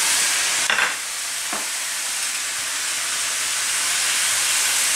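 Onion with turmeric powder fries in a pan for a Kerala mushroom theeyal, giving a loud, steady close-up sizzle and hiss with a couple of brief clinks near the start.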